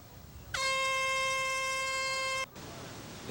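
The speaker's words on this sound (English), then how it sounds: "There's the horn" An air horn blasts to start a surf contest heat, one long, loud, steady tone lasting about two seconds before cutting off, over faint background noise.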